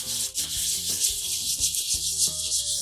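A resin blaster kit part is rubbed flat against sandpaper, giving a steady, close, rhythmic hiss of abrasive scraping over a bed of tonal background music.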